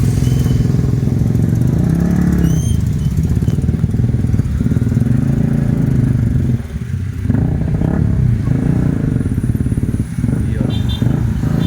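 Motorcycles and other road traffic pass through a city street in Zamboanga, keeping up a loud, continuous engine rumble with revving throughout.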